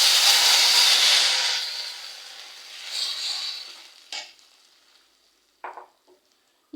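Mashed tomatoes hit hot oil tempered with fried dried red chillies for tomato pepper rasam, giving a loud, close sizzle that fades over a few seconds, followed by a quiet bubbling hiss and a few brief stirring clatters.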